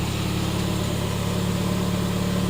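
A Honda CB7 car idles through an aftermarket muffler, a steady low rumble with a constant hum that holds evenly and fairly loud throughout, with no talking.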